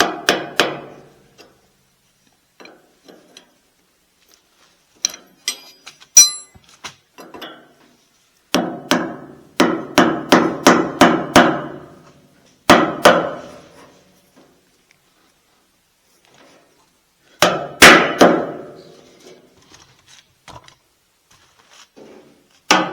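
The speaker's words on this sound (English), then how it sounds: "We're gonna take a dead blow." Dead blow hammer striking a part on a John Deere 70 tractor in a repair shop: bursts of rapid repeated blows separated by pauses, loud and close, with a few lighter isolated taps between.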